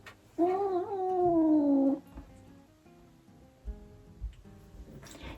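A cat gives one long, loud, drawn-out meow, close by, followed by quieter household rustling and soft knocks.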